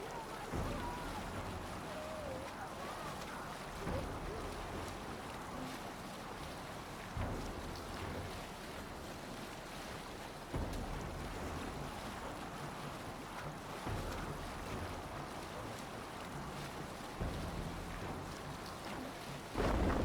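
Longship under sail in Assassin's Creed Valhalla, with a steady wash of waves, water and wind buffeting the hull throughout, a continuous moderately loud bed of sea noise with occasional gusts.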